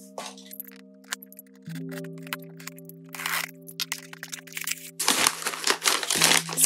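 A proxy shipping package holding manga and merch being cut open, close crackling, crinkling and tearing of tape and packaging over a steady background hum, growing busier toward the end.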